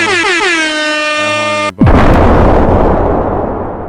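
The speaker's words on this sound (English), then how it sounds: "Let's drop an air horn." A loud air horn blares for nearly two seconds, then cuts to a booming explosion that fades into a rumbling roar.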